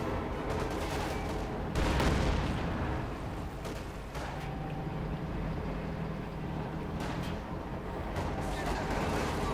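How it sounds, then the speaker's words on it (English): Bursts of 37mm cannon fire from a Kanonenvogel aircraft strafing in the Company of Heroes 2 video game. Dense, rapid gunfire and explosions mix with constant battle noise at a steady loud level, with sharper cracks scattered throughout. "He's also got access now to a Kanonenvogel strafing around there with the 37mm cannons."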